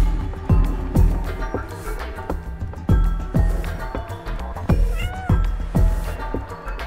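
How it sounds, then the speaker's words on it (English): A cat meowing in the video game Stray, repeated plaintive meows roughly every half second to second over a low rhythmic background, loud and close, no speech. "I'm just a cat!"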